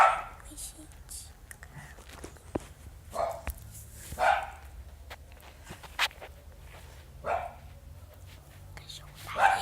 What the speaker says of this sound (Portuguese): Silêncio, o cachorro tá latindo.